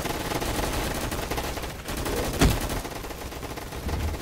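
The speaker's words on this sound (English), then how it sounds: "I'm getting shot at." Gunfire in the Roblox game Gunfight Arena, a rattling run of shots over steady battle noise, with one louder close burst midway through.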